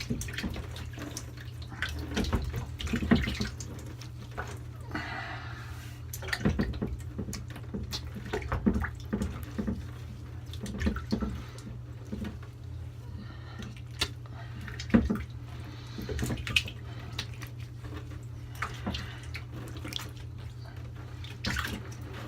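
A tap runs steadily as water is splashed over a freshly shaved face, irregular splashes and drips close by, continuing for some time without speech.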